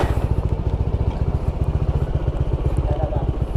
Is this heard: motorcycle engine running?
yes